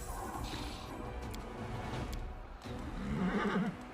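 Plague horses in a dark fantasy strategy video game let out a loud neighing whinny amid a dense battle mix of clashing effects and game sounds.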